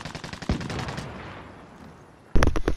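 Enemy snipers in a video game fire a rapid burst of close, loud gunshots, followed by a quiet decaying tail and then a sudden second heavy burst of shots.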